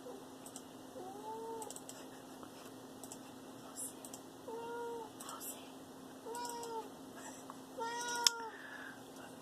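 A house cat whines for attention, giving several short rising-falling meows spread across the span, faint and somewhat distant, over a steady electrical hum with light keyboard-like tapping and soft talk.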